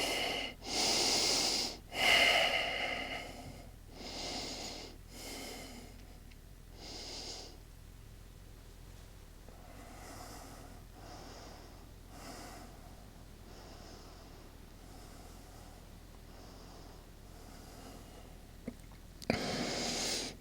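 Deep yoga breathing during a vinyasa flow: a few loud, airy inhales and exhales at the start, then softer, quieter breaths, and one more strong breath at the end.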